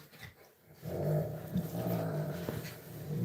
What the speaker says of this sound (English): My dogs have decided they're going to play.